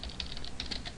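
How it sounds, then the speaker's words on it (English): Keys tapped on a computer keyboard, a quick close run of light clicks at an uneven pace, with no talk over it. "I need to type this slow before I teach you."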